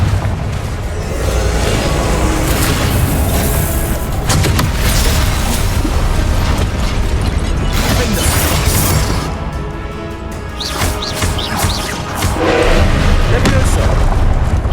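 Confringo fire spells bursting in Hogwarts Legacy gameplay, a dense run of loud booms and crackling blasts layered over continuous game music and effects, with a voice speaking over part of it.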